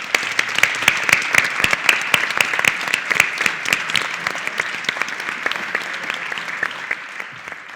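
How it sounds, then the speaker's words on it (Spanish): Audience at an academic conference session applauds the speakers, a moderately close, fairly sparse round of clapping with distinct individual claps, steady for several seconds before gradually thinning and fading. "yo creo que se merecen un aplauso nuestros ponentes"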